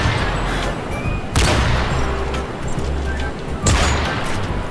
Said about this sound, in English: I like this Barrett 50 cal because of this. I'm just pulling the trigger automatically.